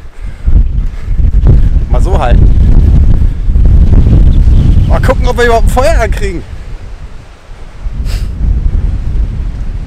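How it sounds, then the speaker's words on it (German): Strong wind buffeting outside a mountain hut while someone tries to start a fire, a loud, constant low roar battering the microphone, with someone talking partway through before the gusts ease slightly. "Ich hoffe, man versteht mich überhaupt bei dem Wind."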